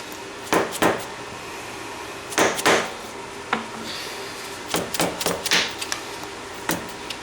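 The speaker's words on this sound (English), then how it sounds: "There's a tab on here we need to open up." Prying open the bent lock tab on the front sprocket nut of a Yamaha Raptor 700R ATV, giving scattered sharp metallic taps and scrapes in irregular clusters, close and moderately loud, with no talking.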